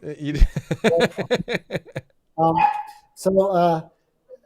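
A dog gives a rapid burst of sharp, close barks in quick succession, followed by two longer, drawn-out yowling barks.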